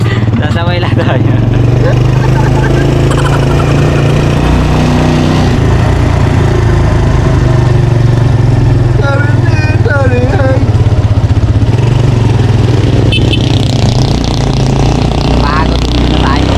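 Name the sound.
tricycle motorcycle engine while riding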